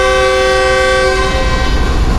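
A loud, close horn from the Pak Business Express train at Hyderabad Junction, Pakistan, sounds one long steady chord, then cuts off, leaving the rumble of the train.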